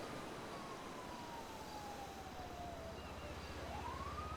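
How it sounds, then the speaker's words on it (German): Police sirens wail in a GTA roleplay city, a faint, distant rising and falling tone that sweeps slowly downward and then climbs again over a steady low traffic rumble, with no talking. "Ich höre schon wieder Sirenen"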